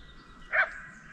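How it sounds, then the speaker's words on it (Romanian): One short faint dog bark from nearby in a wooded area by the Prut river, a single yip over quiet outdoor background hiss. "când se aud așa câini aproape și latră aproape de mine, prin zonele astea împădurite"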